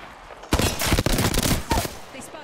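Automatic weapon fire in the Apex Legends battle royale game, a dense volley of rapid close shots lasting about two seconds.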